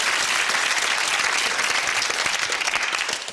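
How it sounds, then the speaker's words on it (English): A studio audience on a television game show applauds in a sustained, even burst of clapping that tapers slightly toward the end. "Give yourselves a round of applause there"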